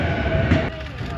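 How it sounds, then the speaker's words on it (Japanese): A JR Ome Line rapid service train rides along heading west from Tokyo toward Ome, a steady loud rumble of wheels and carriage with a faint rail clack, heard from on board. "この電車は青梅線直通青梅特快青梅行きの各駅です"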